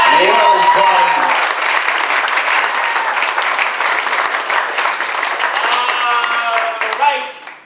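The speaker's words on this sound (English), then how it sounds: "a big round of applause for you guys for coming out and supporting these guys" Loud audience applause and cheering at a comedy improv show, sustained clapping with whoops and overlapping voices that fades out near the end.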